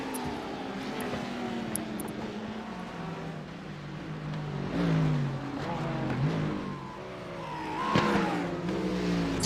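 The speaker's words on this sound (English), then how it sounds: "It's very difficult for you to sit in the pits and hear cars just go by" Race cars roar past one after another, engines revving and pitch sweeping as each passes, over a constant engine drone.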